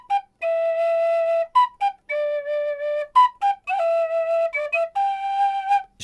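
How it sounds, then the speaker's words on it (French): A cheap six-hole metal tin whistle played in short bursts of bright, piercing held notes separated by brief gaps, shifting between a few pitches, loud and close. "C'est un tube en ferraille sur lequel on a mis un sifflet."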